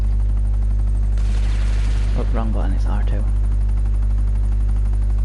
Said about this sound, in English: So this is a Hind, which is a Russian helicopter, but the game calls it a Savage.